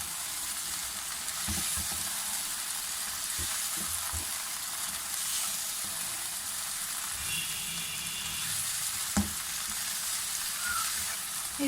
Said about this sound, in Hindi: ये देखिए ये मैरिनेटेड चिकन जो है ये मैंने इसमें डाल दिया